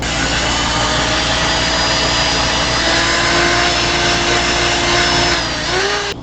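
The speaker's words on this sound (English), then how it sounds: "Let's sand it up. It's pretty good, so I'm going to start with 120." A power sander runs continuously on wood with 120 grit sandpaper, a loud, steady whirring roar with a grinding rasp that holds unbroken for several seconds before easing off at the end.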